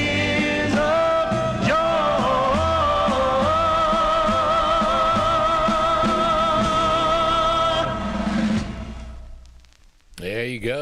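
Doo-wop vocal group record, a 1950s–early 60s 45, playing loud with harmonized voices over steady backing, then fading out near the end into a brief different sound.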